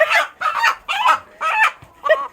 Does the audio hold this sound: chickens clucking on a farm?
yes